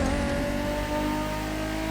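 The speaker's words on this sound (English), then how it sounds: "The 2JZ in the Supra sounds amazing." The 2JZ engine of a Toyota Supra in The Crew Motorfest video game revs in a loud, steady, harmonic-rich drone that holds throughout, with no talk.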